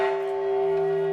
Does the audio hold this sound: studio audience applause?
no